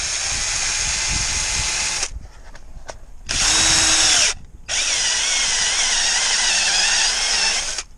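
A power drill bores a large hole, running in loud close bursts of a couple of seconds and a few seconds each, with short pauses and faint clicks between.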